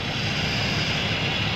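Exhaust of a Chevrolet ZR2 pickup with the 3.0 Duramax diesel and a new single-exit rear PPE exhaust, hitched to a trailer; a steady, loud, broadband rumble drones on without pause or voices.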